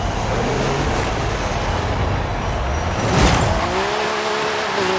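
A Ferrari 599 GTO in Forza Horizon 5 flies past, with loud engine roar and road noise swelling to a peak around the pass, then a rising engine whine as it pulls away.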